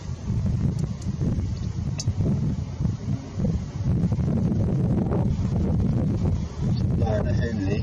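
Strong gusty wind buffets the microphone outdoors at a 100-yard airgun shooting range, a loud continuous low rumble that swells and eases throughout.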